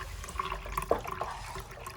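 A pet water fountain fitted with an extended large faucet trickles and splashes continuously, fairly loud and close, with small irregular drips and bubbles over a low hum.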